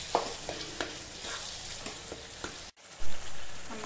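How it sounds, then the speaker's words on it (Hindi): Spiced pumpkin curry with melted jaggery being stirred and mashed in a pan, giving a steady close sizzle with soft scraping strokes every half second or so, then a brief pause and a low thump near the end. "तो हम चलाते हुए इसे पकाएंगे, इससे काफ़ी हद तक ये मैश हो जाता है।"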